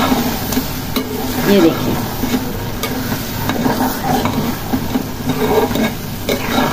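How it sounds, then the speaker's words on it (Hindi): Green mutton kheema with coriander being stirred and fried on low flame, giving a soft steady sizzle with scraping spoon strokes. Someone speaks briefly over it. "अच्छे से इसे भूनने देंगे धीमी आंच पर।"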